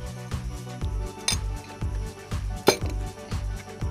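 Beaten eggs and sugar stirred in a bowl for a Lakshadweep pastry, a utensil clinking and scraping against the bowl in quick repeated strokes, close and fairly loud.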